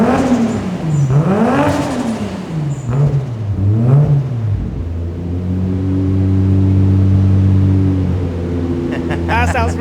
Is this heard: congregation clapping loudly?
no